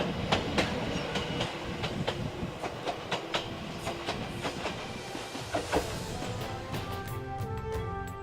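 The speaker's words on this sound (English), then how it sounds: "The local Ichibata electric railway runs across the landscapes of Izumo." An Ichibata Electric Railway local train runs through the Izumo countryside, wheels clicking rhythmically over rail joints at moderate distance, ending in a fading metallic hiss and squeal.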